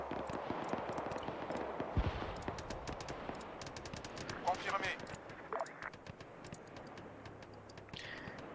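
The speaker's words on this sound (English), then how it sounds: "That shooting's gonna pull everybody." Gunfire in the military video game ArmA 3 crackles as rapid bursts and scattered single shots at moderate distance, running steadily beneath someone talking.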